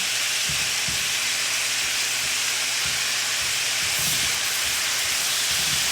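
Garlic fries in hot oil, a loud, dense sizzle and hiss that runs without pause, with occasional soft knocks from the pan, no talking.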